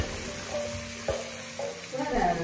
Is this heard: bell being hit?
no